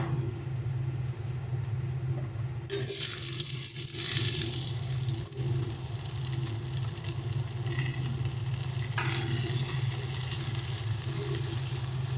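Onion and cumin seeds added to hot oil for matar paneer, a sudden burst of sizzling and crackling that settles into steady frying, with further flare-ups later.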